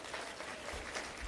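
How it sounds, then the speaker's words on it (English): Brief audience applause inside a Baptist church during a diaspora community forum, a steady wash of many hands clapping at moderate distance, with no voices over it. "Yes, you can clap for that as well."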